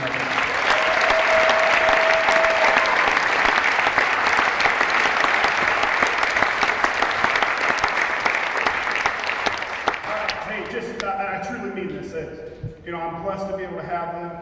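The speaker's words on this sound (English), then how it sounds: "give the coaches a round of applause one more time" A large crowd at a high school state champions welcome home rally applauds the coaches with loud, sustained clapping that fades after about ten seconds as music-like tones and chatter take over.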